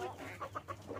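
Chickens cluck in a short, faint burst of several soft, rhythmic calls over a low background hum.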